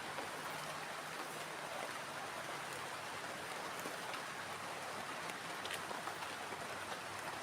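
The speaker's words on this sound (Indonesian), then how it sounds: "ini hujannya semakin lebat banget ya" Heavy rain drums steadily and densely on a plastic shelter in a forest, a continuous loud wash of droplets with no pauses and no voices.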